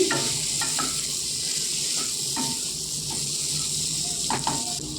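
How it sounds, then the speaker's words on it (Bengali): Chopped onions fry in a pan for a spiced kundru and potato dry dish, giving a soft sizzle broken by scraping spoon strokes and light clinks against the pan, close and fairly steady. "এরপর দিয়ে দিচ্ছি বড় বড় করে কেটে রাখা পেঁয়াজগুলো ভালো করে আবারও নেড়ে চেড়ে এক মিনিটের মতো ভেজে নিচ্ছি"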